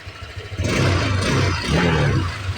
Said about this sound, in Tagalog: Smooth yung makina.